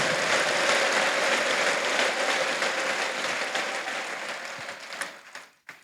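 A church congregation applauding, a dense, loud wash of clapping that stays steady and then gradually thins and fades, with no distinct ululation standing out.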